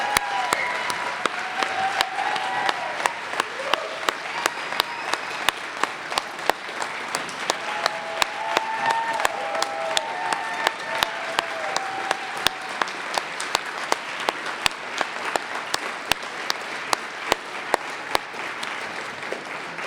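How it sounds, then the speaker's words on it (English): Audience applauding debate candidates at a 2020 Gallatin Democrats political debate: steady, dense clapping from a sizable crowd that sustains for about twenty seconds, with a few faint voices and whistles rising over it. "let's give a warm round of applause for these courageous"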